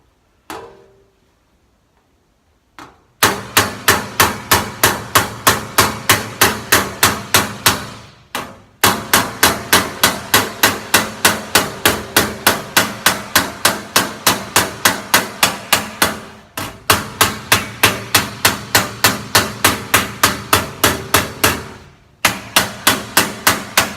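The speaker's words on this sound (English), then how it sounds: "we're literally just going to tap it down into the jaws of the vise" Hammer tapping metal sheet down into the jaws of a vise during fabrication work, a long run of loud, evenly spaced ringing strikes broken by a few short pauses.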